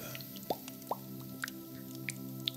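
Small bubbles pop one after another in a sparse, irregular sequence of soft, faint plops over a quiet background.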